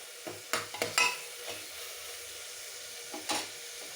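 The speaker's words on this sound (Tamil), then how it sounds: "கூடவே இந்த கறிவேப்பிலையும் போட்டுடணும். இது வதங்கிட்டு இருக்கும்போதே" Curry leaves sautéing in hot oil for tomato rice, a steady soft sizzle broken by several sharp spattering crackles and brief stirring scrapes, close by with no voices.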